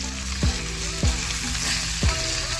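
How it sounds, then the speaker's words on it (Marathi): Fresh fish frying on a tawa over a wood-fired chulha, a constant loud sizzle with three or four brief low thumps spaced through it, close up and without speech. "मस्तपैकी मच्छी फ्राय बघा मित्रांनो"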